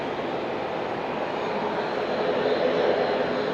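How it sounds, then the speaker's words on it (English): Airliner taking off at Auckland International Airport, heard as a steady, loud broadband engine roar with a slight swell toward the end and no talking. "we actually managed to get the takeoff, at least a portion of it for you"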